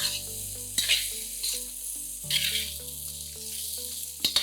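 Half a kilo of boiled, chopped potatoes sizzle and fry steadily in a pan over a medium-low flame, with a few louder bursts as they are stirred and no talking.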